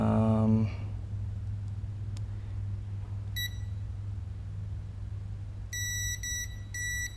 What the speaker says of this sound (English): should beep if I touch them together.